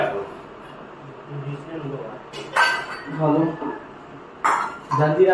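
Brief clinks of spoons against bowls come in a few short bursts, with voices talking underneath in a busy kitchen serving pav bhaji.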